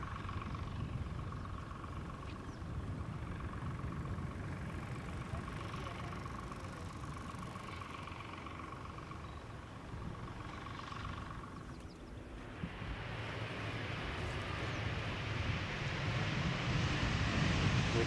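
Distant jet engine whine and rumble from a Saudia Boeing 747 taxiing and making a left turn on the apron at Schiphol Airport, steady and faint, swelling into broader roar toward the end.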